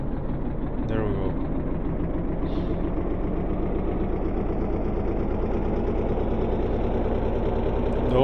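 Main engines of a VTOL aircraft in the game Stormworks drone with a steady, loud mechanical hum that holds constant throughout, with a voice talking over it.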